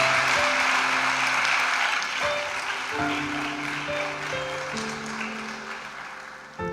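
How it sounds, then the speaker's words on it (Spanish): A church congregation applauds steadily and fairly loudly, the clapping tapering slightly toward the end while sustained music tones play underneath. "Démosle un aplauso a ese Cristo que lo ha hecho posible."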